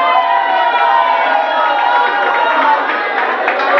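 A nightclub crowd at Mesón de Trapichito cheers and whoops loudly for DJ Alexander Navas in a dense, sustained wall of voices that carries steadily throughout.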